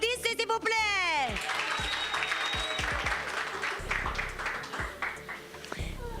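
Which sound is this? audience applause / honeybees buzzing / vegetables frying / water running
audience applause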